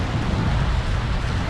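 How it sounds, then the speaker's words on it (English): Rain pours down in Manila's Bonifacio Global City in the Philippines during rainy season, a steady, dense hiss of falling water close by, unbroken for the whole moment with no voices. "you come out and it's pouring rain"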